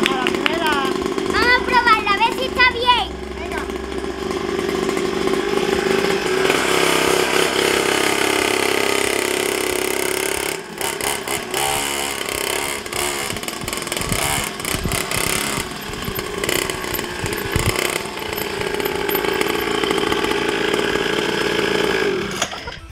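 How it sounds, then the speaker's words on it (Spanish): A small engine sputters and catches, then runs with a rough, buzzing idle and occasional revs, while children talk and shout nearby. "Vamos a mirar si la moto arranca."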